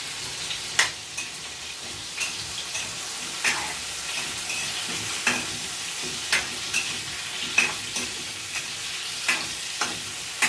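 A jumbo hotdog fries in a pan for a Christmas meal, a steady bright sizzle running throughout with regular light taps and scrapes of stirring every second or so, no voices.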